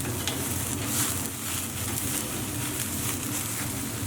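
Harissa lamb mince kebabs on skewers give off a steady, close sizzle as they cook, a continuous hiss with no talking.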